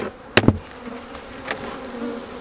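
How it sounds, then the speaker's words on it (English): Bees buzz softly and continuously close by in an opened hive, with a couple of sharp knocks from a hive tool near the start. "This one's full of bees,"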